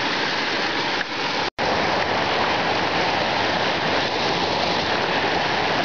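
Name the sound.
waterfall cascade in the Carpathians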